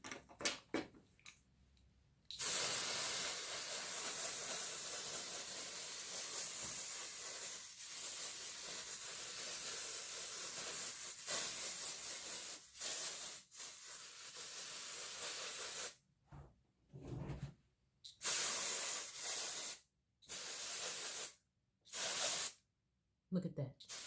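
An aerosol can of hair color spray sprays in a long continuous hiss, then in a series of shorter bursts with brief pauses between them.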